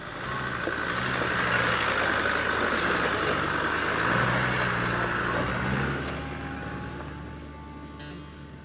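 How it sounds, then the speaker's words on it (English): A 4WD crawls up a steep ridgeline bush track in low range, first and second gear, its engine a steady low drone with a constant rumble that eases off toward the end. "As I make my way up the Ridgeline track, I'm sitting in low range, first and second gear, crawling along"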